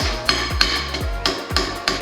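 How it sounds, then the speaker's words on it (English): Sharp, evenly spaced hammer blows strike about six times in two seconds, close and loud, each hit ringing briefly. "I need the hammer on that one."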